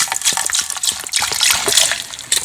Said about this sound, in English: And we're just going to pour a little bit in there